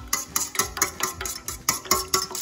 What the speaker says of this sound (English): just whisk the eggs first